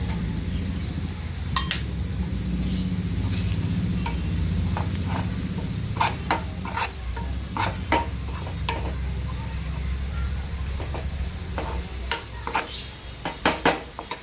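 Vegetables frying in oil with red chili powder added, a steady sizzle under scattered clinks and scrapes of a spoon stirring against the pan, the clatter growing busier toward the end.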